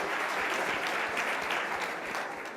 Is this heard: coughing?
no